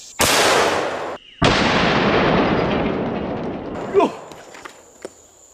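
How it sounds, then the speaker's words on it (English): A 500 Magnum Grand Canyon round fired outdoors, one huge close blast followed almost immediately by a second booming report that rolls away slowly, then a few faint clicks and taps afterward. "That's gonna be the first round we shoot."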